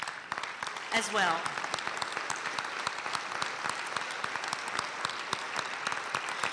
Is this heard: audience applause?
yes